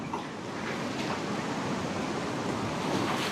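Water of the Rhone River flows outdoors as a steady broadband rush with a faint windy edge, unchanging and moderately loud throughout, with no voices.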